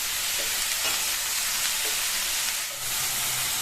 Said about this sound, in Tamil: பாவக்காயை சேர்த்துட்டு ஹை ஃப்ளேம்லயே வச்சு ஒரு 2-3 நிமிஷத்துக்கு இந்த மாதிரி வதக்கிட்டே இருங்க